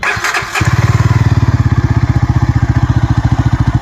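A Yezdi Adventure motorcycle with its exhaust DB killer removed cranks briefly and fires up, settling into a loud, close, rapid, even thumping idle.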